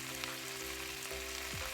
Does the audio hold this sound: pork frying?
yes